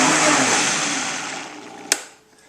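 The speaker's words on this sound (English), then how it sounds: "All those vegetables and fruits are in the blender. They're all liquefied." A Vitamix blender liquefies vegetables and fruits with a loud, steady whir that slowly eases off, then shuts off with a sharp clunk and leaves near silence.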